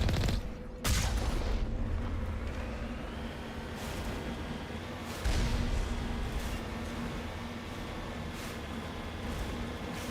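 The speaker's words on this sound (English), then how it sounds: "There's just a bunch of turrets down here for no discernible reason?" Turrets firing in Mass Effect Legendary Edition: dense, continuous bursts of automatic gunfire with sharp blasts near the start and again midway, steady and loud throughout with no talking.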